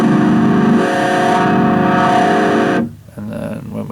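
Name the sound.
parametric overdrive pedal frequency sweep at full boost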